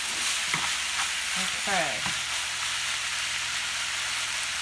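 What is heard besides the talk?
onions sizzling and frying in a pan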